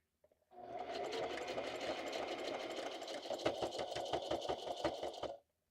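A sewing machine stitches through about seven layers of fabric for a junk journal, a steady close mechanical whirr that turns into heavier rhythmic thunks toward the end, then stops abruptly.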